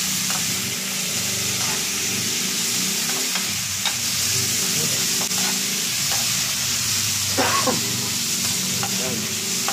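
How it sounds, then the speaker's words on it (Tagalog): Eggplant and other vegetables sizzle and fry steadily in a hot pan, a loud continuous crackle with occasional stirring scrapes and no talk over it. "Sizzling."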